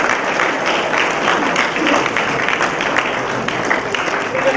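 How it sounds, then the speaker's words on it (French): An audience applauds a guest announced at a festival opening ceremony, a dense, steady, fairly loud wash of clapping from a crowd that holds for the whole stretch. "je vous prie d'applaudir comme se doit un très célèbre"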